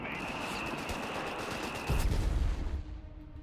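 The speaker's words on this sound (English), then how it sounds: "With that Bren gun, they're going to do some damage here to those bloody Huns." A Bren gun fires in rapid automatic bursts during a Company of Heroes 3 desert battle, with a heavy thump and rumble partway through, mixed into game effects under steady commentary.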